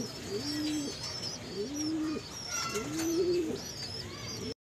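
Young racing pigeons cooing in a loft, several soft rolling coos repeating in a slow rhythm, close and clear over a faint background of chirps.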